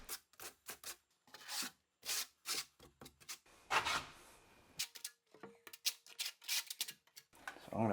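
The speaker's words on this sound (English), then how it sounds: "just put a little bit of thin set underneath of this" A trowel spreads thin set mortar along shower tile for a full-length niche, making quiet, repeated scraping strokes in short bursts, close up, with someone speaking between them.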